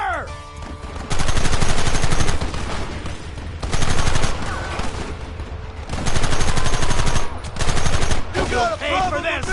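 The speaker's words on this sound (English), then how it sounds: "Open fire!" Gunfight in the Red Dead Redemption video game: loud, close bursts of rapid gunfire in several long volleys separated by short lulls, with brief shouted voices in between.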